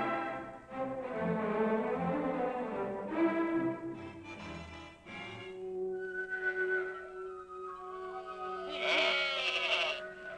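Goats grazing on a mountain ridge bleat repeatedly in long wavering calls, close and fairly loud, with a higher bleat near the end and no talk.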